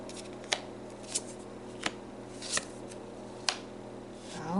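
Tarot cards are pulled out quickly and dealt. There are about five sharp, separate snaps and flicks spaced under a second apart over a quiet background hum, with no voices.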